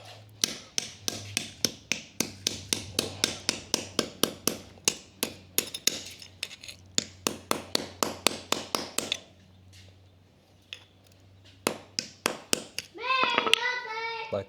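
A hammer bangs on one side of aluminium tubing in a quick run of sharp, evenly spaced metallic blows. After a short pause, a few more strikes follow, and a voice briefly cuts in at the end.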